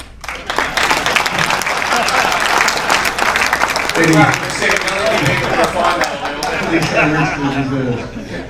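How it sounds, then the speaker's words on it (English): An audience claps loudly throughout a motorsport talk event, a dense burst of applause with people talking and chatter rising over it in the second half. "I'd like you to all give Hamo the clap."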